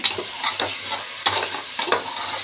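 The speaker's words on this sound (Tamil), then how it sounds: "தக்காளி நல்லா வதக்குங்க" Tomatoes sautéing and being stirred in a pan while cooking tomato rice, a steady sizzle broken by repeated scraping stirs, close up and fairly loud; no talking.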